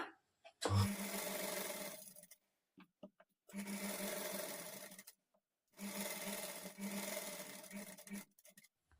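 Sewing machine stitching a fall onto a saree, running in three steady bursts of about two seconds each with short pauses between, close and fairly quiet, with no talking.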